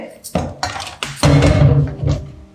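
Dishes being washed by hand at home, with clattering pots, plates and cutlery in a series of close, sharp knocks and scrapes over running activity, mixed with some voice.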